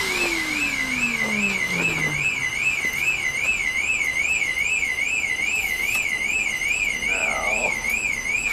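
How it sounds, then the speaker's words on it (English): A BMW 5 Series car alarm wails close by, cycling a loud, wavering two-tone siren without a break, with brief background noises underneath. "Now the alarm system goes off."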